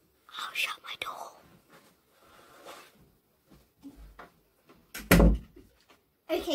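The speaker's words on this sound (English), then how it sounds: "I'll shut my door." A bedroom door is pushed shut with one solid, fairly loud thud near the end, after stretches of soft whispering and quiet rustling nearby.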